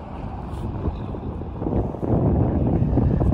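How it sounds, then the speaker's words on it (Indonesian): Strong wind at a highway rest area, buffeting the microphone with a dense low roaring rush that grows louder toward the end, steady and close, with no voices. "Anginnya cukup kencang."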